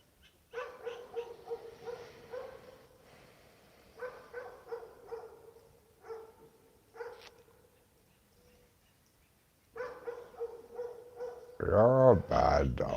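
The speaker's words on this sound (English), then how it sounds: "Nobody needs to hear your pointless barking at 10 to 7 in the morning." Early-morning dog barking in short bursts, several sharp barks and yips spaced by pauses, close to the microphone, ending in a louder stretch of noisy sound.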